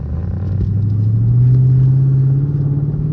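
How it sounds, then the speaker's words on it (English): A Dodge Charger R/T engine rumbles steadily at close range on the freeway, a deep low drone that swells slightly in pitch midway as it cruises along. "I don't know if y'all can hear my car, but it sounds amazing."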